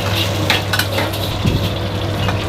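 Onion and ginger fry in a pan, giving a steady, close hiss with a few light scraping and clinking stirs scattered through, and no voices.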